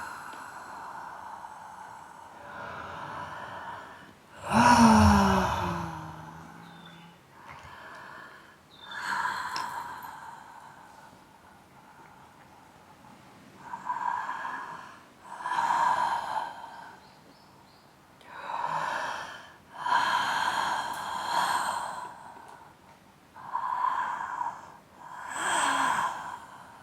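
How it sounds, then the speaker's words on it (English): Heavy, rhythmic breathing during a breathwork and trauma release session, with long loud sighing exhales and gasping inhales that come in repeating waves close to the mic, with no talk over them. "And try not to interrupt your breathing."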